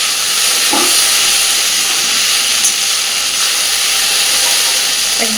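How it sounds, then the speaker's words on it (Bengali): Ivy gourd (kundri) fries in hot oil with a loud, steady, close hiss that stays level throughout, with faint soft knocks underneath. "দেখুন আমি কিন্তু সুন্দরভাবে কুদ্রিটাকে ভেজে নিচ্ছি"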